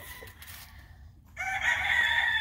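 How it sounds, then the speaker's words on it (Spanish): A two-year-old fighting rooster crows once, loud and close, after a quiet stretch of faint outdoor ambience. "Estos son gallos de 2 años, camaradas."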